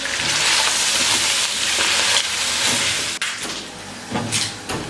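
Chicken pieces coated in spices and salt fry loudly in a pot for chicken korma, a dense hissing sizzle that swells and dips with stirring, close and steady.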